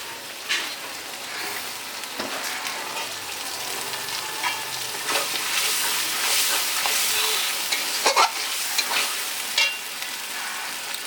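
Chili paste being sautéed with turmeric and spices for chicken soya pasta, a close, crackling sizzle with frequent spatula scrapes and stirring knocks, loudest in a few sharp bursts.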